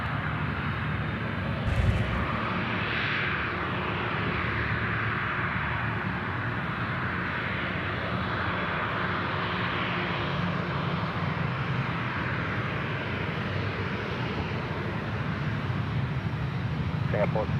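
An aircraft taxis into the bays at Sydney Airport, a steady broadband jet whine and rumble held throughout, with air traffic control radio chatter heard over it.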